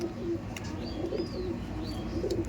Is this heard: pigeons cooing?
yes